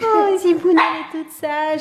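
An excited, hungry dog at home gives a couple of close, whiny barks and vocalizations. A person talks over them.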